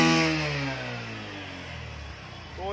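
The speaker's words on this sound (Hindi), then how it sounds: "यहाँ पे प्लैटिना 110 की तो इसका एग्जॉस्ट साउंड कुछ ऐसा देखने मिलता है" A Bajaj Platina 110 motorcycle exhaust runs just after starting, its note falling away from a loud rev to a steady idle before picking up again with a short blip at the end.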